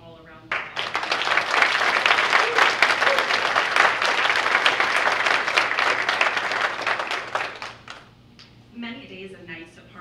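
An audience applauds nursing graduates at a pinning ceremony, clapping starting abruptly and holding strong and steady for about seven seconds, then fading as a speaker resumes talking.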